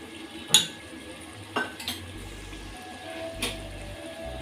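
A spoon stirs curd and spice powder into chicken biryani in a pot, giving a few sparse metallic clinks and scrapes against quiet background noise.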